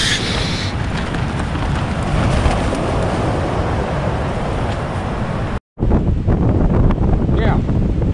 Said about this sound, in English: the wind's still blowing 90 mile an hour, and Danny, mountain man, just blowed away.